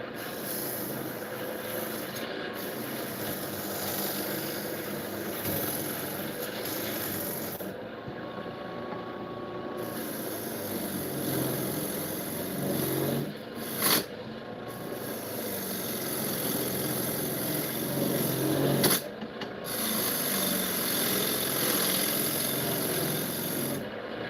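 A wood lathe spins a cherry bowl while old Marples gouges cut it, giving a steady broadband hiss and rasp with brief pauses and scraping changes as the tool shifts, close and moderately loud, with no voices.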